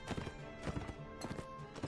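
Rapid clip-clop of galloping horse hooves while riding into battle in Mount & Blade: Warband on PS4, with a horse whinny mixed into busy game sounds.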